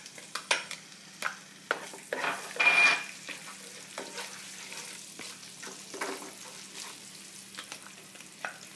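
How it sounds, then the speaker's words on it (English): Ginger, garlic and onion cook in a pan for vegetable biryani, a quiet sizzle punctuated by irregular stirring scrapes and a brief louder burst early on. "We're going to put the onion and just cook it till it is a little softened."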